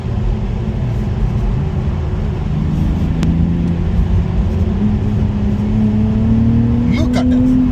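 A BMW Z4 M40i sports car on the road, its engine drone rising steadily in pitch as it accelerates under a constant roar of wind and tyre noise, heard from inside the car with a voice over it.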